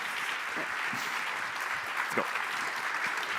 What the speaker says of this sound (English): please give a great round of applause to Kaon Krasniqi, founder of Mindloop